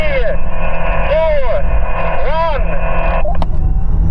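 An Audi RS e-tron GT and an RSQ e-tron drag race from a rolling 80 km/h. A steady, loud electric whine with rising and falling tonal sweeps plays over heavy wind and road roar, recorded close inside a moving car.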